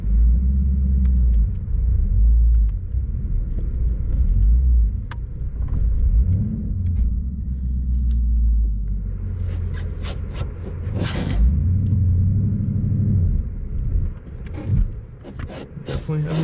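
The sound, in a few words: Ford Mustang driving through deep snowdrift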